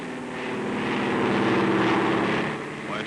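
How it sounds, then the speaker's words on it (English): Propeller airplane passing overhead in a Western film scene, a steady droning engine roar that swells to a peak and slowly fades, loud and close with no talk over it. "Well, it's a plane."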